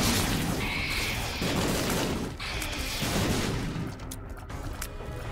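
Dense rumbling booms and crackling blasts from a video game run in which everything is being blown up, a continuous loud barrage that thins out into scattered crackles near the end.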